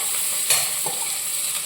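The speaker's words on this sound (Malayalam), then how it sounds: "ഇത് നമുക്ക് ചെറുതായിട്ട് ഇതൊന്ന് ഇളക്കാം." Chopped garlic frying in a pan for garlic rice, a steady close sizzle with a single utensil stir scraping through it partway along.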